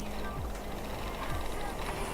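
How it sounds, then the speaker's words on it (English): A duck quacks faintly a few times in the background, short nasal calls under a steady noisy room hum. "Hear the ducky?"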